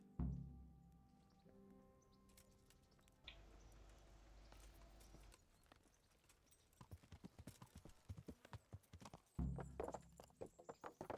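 Horse hooves clip-clop in the medieval video game Kingdom Come: Deliverance, a steady rhythmic patter of clops rising over ambient background sounds and continuing to the end, with a louder thud near the close.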